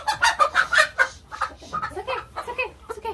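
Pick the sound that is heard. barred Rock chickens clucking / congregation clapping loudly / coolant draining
barred Rock chickens clucking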